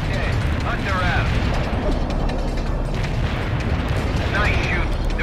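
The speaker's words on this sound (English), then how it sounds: "Artillery barrage in for full effect." Artillery shells rumble and thud in a continuous barrage in the real-time strategy game World in Conflict, mixed with mechanical clatter and crackling impacts and occasional distant booms. Radio-style voices talk throughout.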